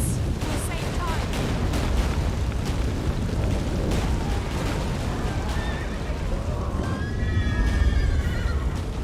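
Roach the horse whinnies in The Witcher 3: The Wild Hunt as game sound and a steady rumbling din carry on underneath, with several neighing calls coming through the dense mix.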